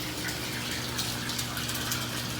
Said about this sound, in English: So I'll leave the sump pump going to those guys.